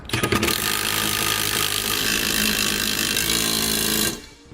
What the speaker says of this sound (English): We'll come back with a 9/16 socket and snug all of them up.